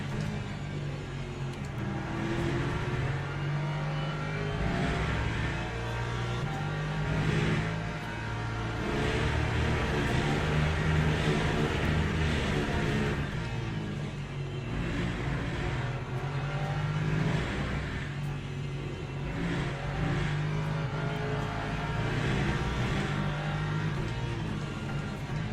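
Porsche race car engines in the Le Mans Ultimate racing game, a steady loud drone with rising and falling revs as the cars battle on track, continuous throughout with no talking.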